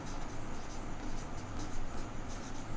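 Chalk or marker scratching across a board during a maths lesson on relations and functions, a steady, slightly rough scraping with quick strokes and no talk.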